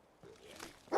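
A dog in the Fallout 4 video game gives a single short bark, close and fairly loud, at the end of a brief moment of quiet.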